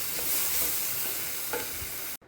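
Vegetables for a chapati veg roll frying in a pan give a dense, steady sizzle with faint stirring scrapes, close and continuous before cutting off abruptly near the end.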